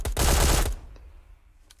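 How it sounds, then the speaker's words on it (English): Gunfire in the mobile battle royale game PUBG Mobile on the Sanhok map: a short, loud burst of rapid shots lasting about half a second, followed by a faint decaying tail and a couple of soft distant pops. "I was shooting at the guy."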